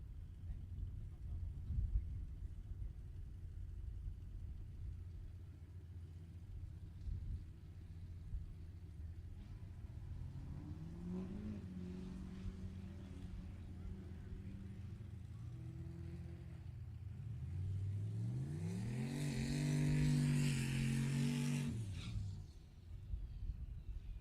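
Diesel pickup trucks race on a drag strip, among them a small Nissan with an LS turbo swap, heard as distant rising engine roars that climb in pitch and swell loudest near the end over a steady crowd rumble.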